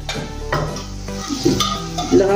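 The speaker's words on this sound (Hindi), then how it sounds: "अभी इसमें डालेंगे अपनी दाल," Cooked dal poured into a pan of fried spices, with a close, steady sizzle, scraping and stirring clatter, and a few louder clinks of the spoon against the metal pan.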